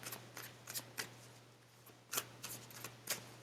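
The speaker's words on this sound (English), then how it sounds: "I'm going to pick another card for those who pick cards 4" Tarot cards shuffled and picked from a deck, with a series of soft papery riffling bursts and flicks at an irregular rhythm, close and quiet over a faint steady hum.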